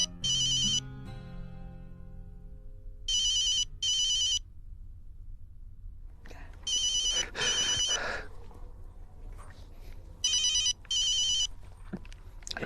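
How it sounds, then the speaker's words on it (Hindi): A telephone rings in repeated electronic bursts, two short rings per cycle separated by pauses, fairly clear in a quiet room with faint background noise between rings. "फोन आया"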